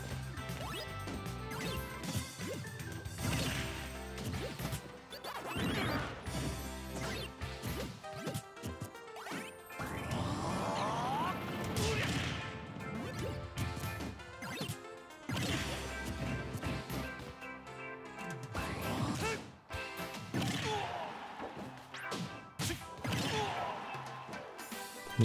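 Smash attacks landing in Super Smash Bros. 4, loud repeated impact hits and crashes mixed with game music and effects throughout, with several bursts of heavy thwacks.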